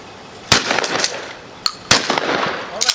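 Shotgun blasts during an outdoor pigeon hunt: two loud, sharp reports about a second and a half apart with lingering echo, plus a fainter crack between them.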